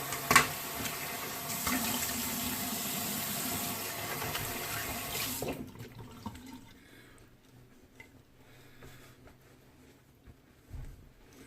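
Tap water runs steadily into a sink while someone rinses off after a wet shave, then shuts off about halfway, leaving faint drips and quiet room noise.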